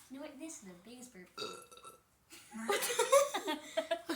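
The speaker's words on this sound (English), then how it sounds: "This is the biggest burp." A person lets out a few loud, drawn-out burps, with breathy, laughing sounds in between.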